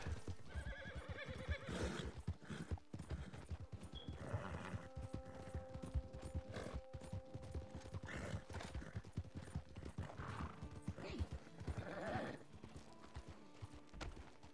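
Horses in Red Dead Redemption 2 neighing and whinnying over busy clip-clop hoofbeats, layered with game sound effects and a dense, loud mix throughout.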